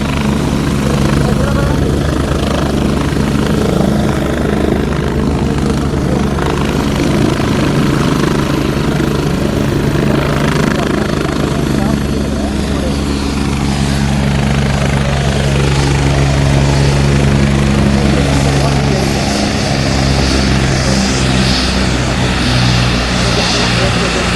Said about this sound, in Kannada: ಸಚಿವ ಭೈರತಿ ಸುರೇಶ್ ಅವರು ಹೆಲಿಕಾಪ್ಟರ್ ಮೂಲಕ ಗ್ರ್ಯಾಂಡ್ ಎಂಟ್ರಿ ನೀಡಿದ್ದಾರೆ